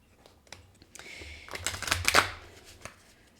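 Tarot cards being shuffled: light scattered flicks, then a riffle that swells into a dense crackling burst before easing off into a few soft taps, close and fairly quiet with no talking.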